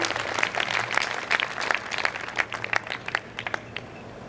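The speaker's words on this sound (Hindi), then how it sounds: "एक बार तालियां हो जाए आप सबकी।" A crowd at a Hindi poetry gathering (kavi sammelan) held by a Bharat Vikas Parishad branch claps steadily, with dense, lively applause and scattered louder claps that thin out toward the end.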